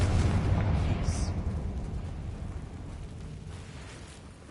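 A Confringo spell explodes in the Hogwarts Legacy video game on PS5, a deep rumbling boom that hits at once and slowly fades over several seconds, with a voice briefly heard.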